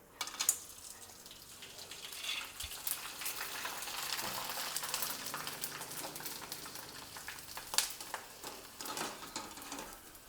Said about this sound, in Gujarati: ચકરી તળાતા ડબલ સાઇઝ થઈ ગઈ છે